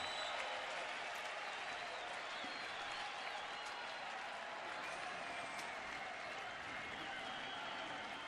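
Baseball crowd at a Texas at Cleveland game cheering on pitcher Carrasco, a dense, steady roar of applause and voices filling the whole stretch at a distance, with no commentary over it.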